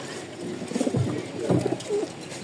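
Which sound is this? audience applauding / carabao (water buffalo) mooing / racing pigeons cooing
racing pigeons cooing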